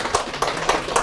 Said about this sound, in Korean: 손만 한 번 이렇게 들어서 박수로 한 번